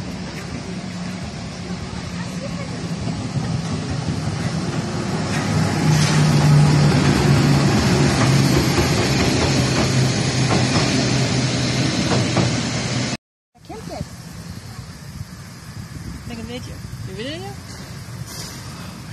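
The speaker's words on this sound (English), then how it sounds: "Here's the fourth train coming in since we've been here for the past hour and a half." A Harz narrow gauge railway train pulls in on a cold, rainy day, a steady low rumble swelling and holding for several seconds before a brief cut, then continuing more quietly with faint background sounds.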